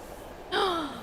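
A train in the Silent Hill 3 video game lets out a sudden loud, drawn-out metallic screech, a descending whistle-like tone rising out of low ambience and sustaining to the end.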